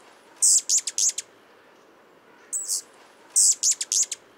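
Rufous hummingbirds squabble over a feeder, giving two bursts of rapid, high, buzzy chips and a brief squeaky note between them, close and clear over quiet background hiss.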